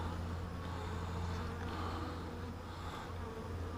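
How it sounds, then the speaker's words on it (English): A wasp buzzes around a beehive at a mating nuc, a steady insect drone close by, continuous and fairly even in loudness, with no one talking. "that wasp just went down in that hive"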